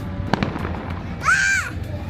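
Canada Day fireworks burst in a few sharp distant pops, then a whistling shell rises and falls in pitch, heard outdoors over a low steady background hum.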